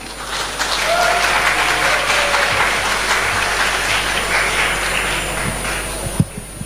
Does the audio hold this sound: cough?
no